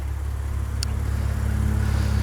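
A 2014 Maserati Ghibli's twin-turbo V6 idles with a steady, close, low-pitched drone that stays even throughout. A single brief click cuts through partway, and no one speaks.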